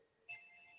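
A phone ringtone chimes faintly during a school board meeting, a single soft tone starting partway through and holding steady in a quiet room.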